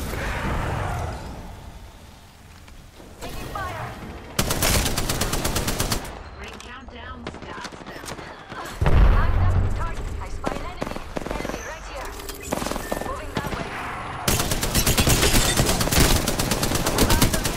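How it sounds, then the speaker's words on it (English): Automatic gunfire in Apex Legends: loud bursts of rapid shots in several volleys, with character voice lines spoken between them. "Shots fired, and they're hitting me. Taking fire."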